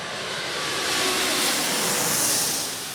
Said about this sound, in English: To most passengers on planes, the noise from the cabins often bother them.